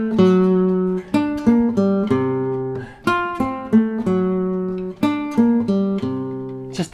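Guitar playing short melodic lead licks and arpeggiated notes over sustained chords in a song lesson, clear and close, each phrase plucked crisply and ringing out over about seven seconds.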